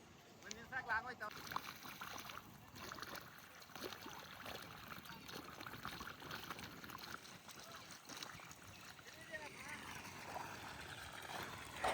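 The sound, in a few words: water flowing to water the plants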